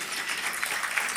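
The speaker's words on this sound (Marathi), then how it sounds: "गुलजार साहेबांसाठी टाळ्या झाल्या पाहिजे" An audience at a live Gulzar tribute evening in Nanded claps together, a dense, even patter of many hands filling a hall for just over a second.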